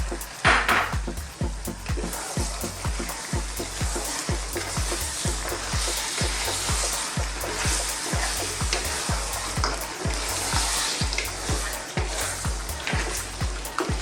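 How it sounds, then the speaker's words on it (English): Tomatoes hit hot lamb karahi in a wok, giving a steady close sizzle of frying with regular scraping stirs repeating throughout, no talk. "Now we'll add our tomatoes."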